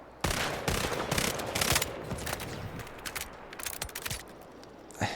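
Rapid bursts from the Corsair gun in Highguard, with sharp close shots in quick clusters, several short volleys separated by brief pauses, and no talking.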